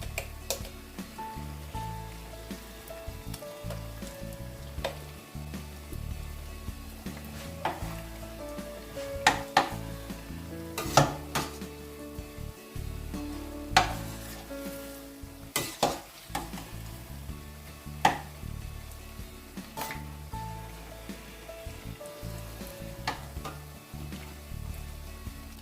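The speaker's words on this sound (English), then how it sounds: "make sure it is on a medium heat and you fry until it is golden brown" Cameroonian puff puff dough frying in hot oil over medium heat, a continuous soft sizzle and bubbling with occasional sharp ticks and clinks of a utensil against the pot.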